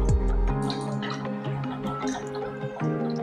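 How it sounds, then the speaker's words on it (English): Cooking oil is poured into a bowl of baking dough mixture with flour, sugar and salt, giving a close, continuous liquid glugging and dripping with no talk. "So adding oil."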